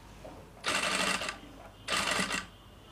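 A sewing machine hems the square neck of a blouse in two brief, even runs of rapid stitching, each lasting about half a second, separated by a short pause.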